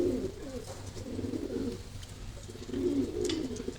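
A pigeon coos in repeated low, throaty rolls, close by, with brief pauses between phrases.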